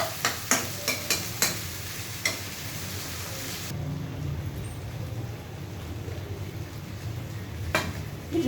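Vegetables stir-fried in a pan for a Chandpur-style fish dish, with a few sharp scraping strokes early on, then a steady, close sizzle hissing on its own.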